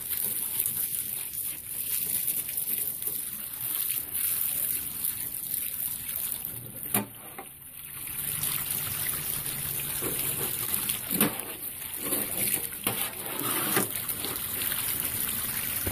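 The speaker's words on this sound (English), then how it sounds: "That little bit of clean water will run through, make it look cleaner." Clean water rinsing through a gold mining sluice, a continuous close rushing trickle with a few brief splashes and knocks along the way, no voices over it.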